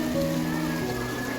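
Steady rain at Lodhi Garden, a constant wash of falling water under a faint tonal hum, with no voices.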